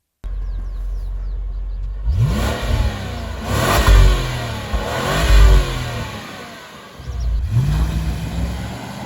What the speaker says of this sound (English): It's big, as it would be with a V8, and it sounds, well, it sounds like this.